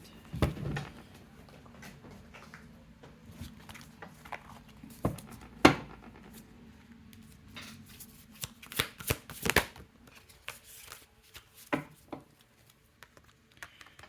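Oracle cards are shuffled by hand close up, with soft riffles and sharp flicking slaps scattered irregularly between quiet stretches.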